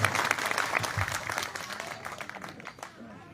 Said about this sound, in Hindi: तालियों की गड़गड़ाहट से स्वागत करें सदर मोहतरम।